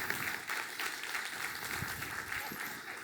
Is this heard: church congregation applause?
yes